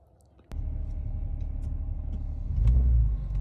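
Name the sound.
6-cylinder Jeep driving on test drive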